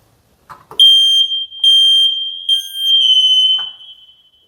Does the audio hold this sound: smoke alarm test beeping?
yes